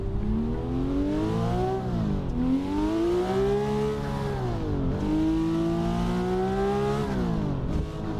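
Car engine in a driving video game mod, revving loudly and steadily, pitch climbing through each gear then dropping sharply at every shift, several upshifts in a row, close and continuous.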